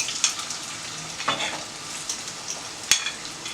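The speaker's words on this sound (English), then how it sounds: "the first thing I'm going to do is I'm going to add my onions and my tomatoes" Chopped onions and tomatoes frying in a mix of vegetable and coconut oil, a steady close sizzle broken by a few sharp stirring scrapes and clinks.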